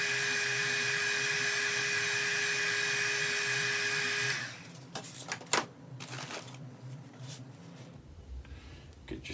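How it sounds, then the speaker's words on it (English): A heat gun warms a ROVAN 45cc engine case with a steady, loud whining blow for about four seconds, then cuts off, leaving scattered clicks and handling noises. "This heat gun heats up everything super fast"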